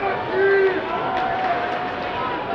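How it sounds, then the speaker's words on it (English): Steady crowd murmur and babble fills an ice hockey arena during a game, a continuous mid-level wash of voices with faint tonal calls rising briefly above it. "Just some of the ambient crowd noise"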